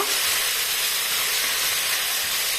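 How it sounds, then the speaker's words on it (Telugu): Tomato and fenugreek leaves fry on a low flame with a steady, even hiss and sizzle from the pan. It sounds close and continuous, with no voices. "స్టవ్ని లో ఫ్లేమ్లో పెట్టుకొని వేయించుకుందాం"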